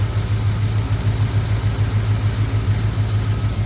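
A 1968 Ford Torino GT convertible with a 390 high-performance big block V8 idles close by, a loud, steady, deep burbling rumble with a slight rhythmic lope and no voices over it.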